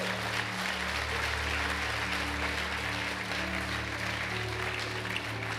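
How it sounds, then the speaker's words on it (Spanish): Steady applause from a church congregation during a service fills the space, a broad continuous clatter of many hands at moderate distance, with a faint sustained organ-like tone beneath and no talking. "Dele un aplauso al Señor"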